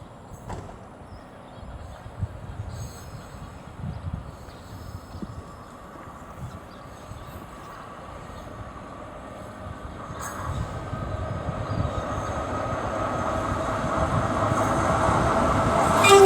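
Freightliner freight train 4M87 from Felixstowe North to Ditton on the West Coast Main Line at Stafford, rumbling through on approach with a steady build of wheel and wagon noise growing louder toward the end.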